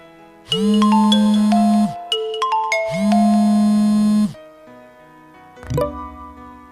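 A mobile phone rings with a repeating electronic ringtone, two long loud bursts of bright tones separated by a short gap, then it stops as the call goes unanswered, followed by a brief single chime.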